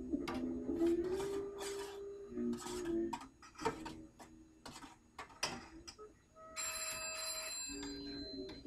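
A telephone rings in a home kitchen where hair gel is being made, with a bright electronic ring near the end, preceded by clinking dishes and utensil knocks.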